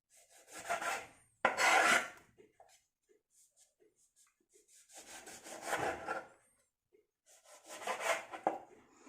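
A sharp knife cuts lemons into fairly large pieces for pickle, giving scraping, rasping strokes on a board in three separate bursts with quiet gaps between them, and no voices.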